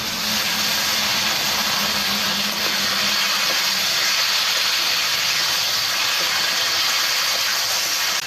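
A jackfruit and catla fish masala with salt fries after a splash of water, giving a loud, continuous steamy hiss and sizzle that holds steady throughout, close by and with no speech.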